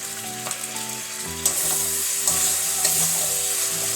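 Chilli chicken sauce with tomato sauce being stirred in a frying pan, a continuous close sizzle with repeated spatula scrapes and knocks against the pan, no voices.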